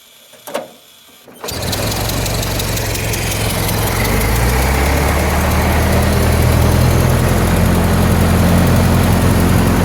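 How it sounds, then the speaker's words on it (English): Ford Model T engine, primed and started: a quiet lead-in with a short thump, then the engine catches with a sudden roar and settles into a loud, steady low rumbling idle that continues to the end. "Now I'm going to go ahead and start it."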